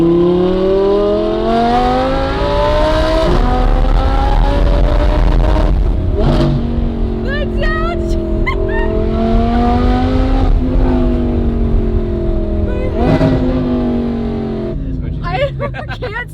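A tuned, very loud BMW M2 Competition making about 700 horsepower revs hard through rising and falling engine sweeps with crackling downshifts, loud and close, while a person talks over it.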